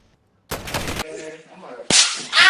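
Gunfire in the Warzone video game: a sustained automatic burst, then a single sharp loud crack, and another dense burst at the end, loud and close.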